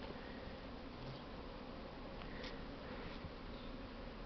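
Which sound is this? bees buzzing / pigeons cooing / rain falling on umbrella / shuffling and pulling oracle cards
bees buzzing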